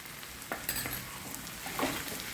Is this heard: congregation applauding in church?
no